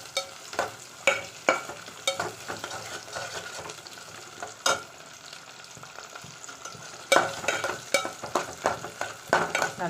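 Shallots and garlic sauté in a pan for kara kulambu, a soft sizzle beneath repeated sharp scrapes and knocks of a spoon against the pan, irregular stirring strokes heard close with no voices.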